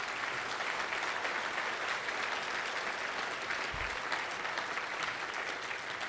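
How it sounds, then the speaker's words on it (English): A dinner audience at a fundraising event claps steadily for the speakers, a dense sustained wash of many hands filling the room from start to finish, with no talking over it. "round of applause for all of our speakers tonight"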